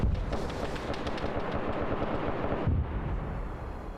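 Heavy mortar and gun fire in a war game set in Ethiopia, a dense rumbling barrage of thuds and cracks, loud and continuous with a strong low boom near the end.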